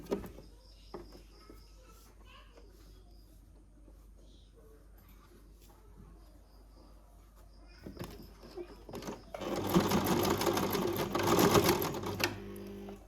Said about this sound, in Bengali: প্রথমে এখানে একটা আগে সেলাই দিয়ে একটু লক দিয়ে নিচ্ছি, যাতে কাপড়টা বা নেকটা নড়ে না যায়।